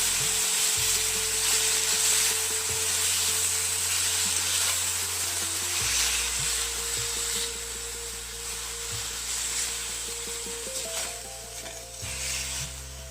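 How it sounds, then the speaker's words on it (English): Spinach (palak) being stirred in a kadhai, a steady sizzle and frying hiss with soft scraping strokes running continuously throughout. "Mix the palak thoroughly."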